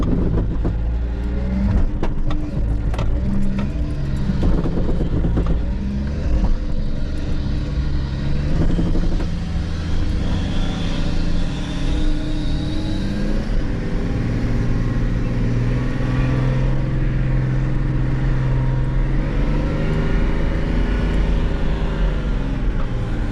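Nissan Patrol 4x4 with all differential locks engaged, its engine droning and revving loudly and close for over twenty seconds, the tone rising and falling as the vehicle labors, no talk.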